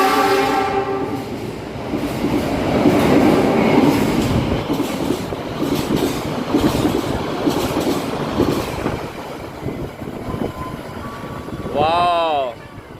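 A train passes on the railway line at Sidareja station, with a loud rolling rumble and wheel clatter that swells and fades, ending in a short, sharp horn blast.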